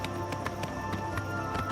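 Horse hooves in Oblivion Remastered, a steady run of clip-clop strikes at a moderate distance over a constant game ambience, with no talk.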